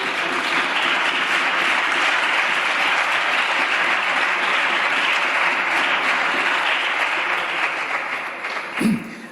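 Sustained applause from deputies in the Spanish Congress chamber, a broad, loud crowd of clapping that holds steady before thinning out near the end, where a brief thump or voice breaks through.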